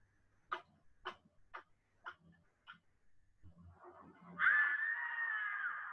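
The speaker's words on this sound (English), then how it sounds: "She's screaming out of fear, but no one is listening." A woman's scream of fear rings out as a sustained, high, wavering cry after a run of sharp rhythmic knocks and faint low rumbles, close and fairly loud in a horror-style sound effect.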